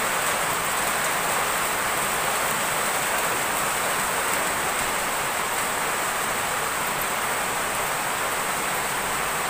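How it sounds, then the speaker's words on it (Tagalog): Heavy typhoon rain from Typhoon Quinta pours down in Pamplona, Camarines Sur, a dense, continuous hiss of rainfall with no pauses, steady and enveloping throughout. "Maulan na ito, guys."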